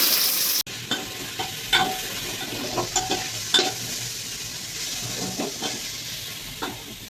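Fish frying and sizzling in a pan in a home kitchen, a steady close hiss with the scrape and clatter of stirring breaking through now and then, and no voices.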